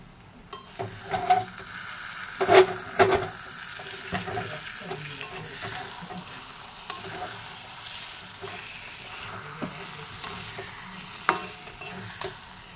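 Dried fish fries in a pan and is stirred: a steady close sizzle with repeated scraping knocks of a utensil against the pan, some louder clacks among them.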